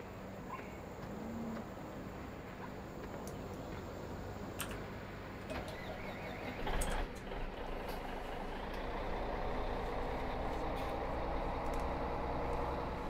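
Truck in Farming Simulator 17 idling and rumbling at low volume, with sharp hissing air-brake releases and clicks scattered through, and the engine swelling toward the end.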